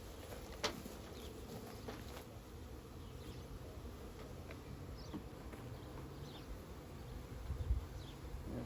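Honeybees hum steadily inside a backyard hive as a new package is installed, a soft continuous buzz with occasional louder passes of single bees near the microphone. Nobody speaks.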